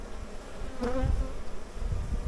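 A low, steady buzzing of many honey bees up close at an opened hive during maintenance, continuous and swelling slightly, with a brief handling noise partway through.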